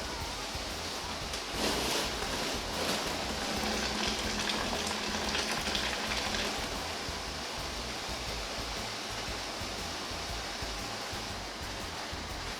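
Water rushes and splashes steadily into a cooler for a bourbon mash, a continuous churning hiss that swells briefly early on, then settles into an even flow.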